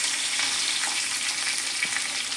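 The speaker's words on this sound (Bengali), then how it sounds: "বাকি মাছগুলো ওই তেলে আবারও একই রকমভাবে ভেজে নেব।" Pabda butter fish frying in hot oil for a potato curry, giving a steady broadband sizzle with a few faint pops, fairly close and continuous, with no talking.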